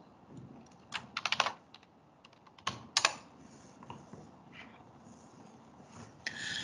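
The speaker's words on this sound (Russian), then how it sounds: "Вводим пароль нашего администратора." Someone types an administrator password on a computer keyboard during a Windows 10 setup. Clustered, close key clicks come in short bursts with brief pauses, and the final keystroke is sharper, like an enter press.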